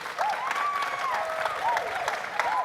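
Steady applause from an audience at a youth town hall for a human rights award, filling the whole stretch at even loudness, with faint overlapping chatter and a few whoops.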